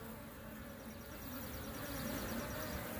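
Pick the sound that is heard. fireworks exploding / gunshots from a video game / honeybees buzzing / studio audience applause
honeybees buzzing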